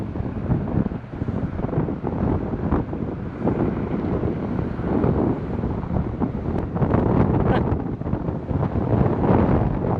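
Strong wind batters the microphone on a beach at Tybee, a loud continuous rumbling roar with gusty surges and faint surf underneath, no voices.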